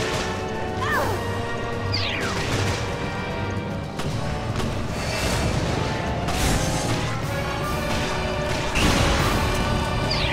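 Heavy booming crashes and impacts of a charged shot in Resident Evil Revelations, over a dense, continuous layer of loud game noise, with rising whooshing tones between the blasts.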